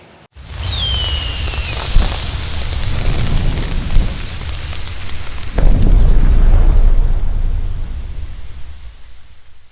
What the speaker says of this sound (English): It's currently raining.